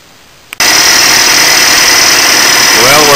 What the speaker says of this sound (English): I am running the lathe at a fairly slow speed until the work becomes perfectly cylindrical